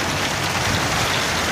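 Heavy rain pours down at night in Siloé, a dense, steady hiss of water drumming on surfaces, loud and continuous with no voices.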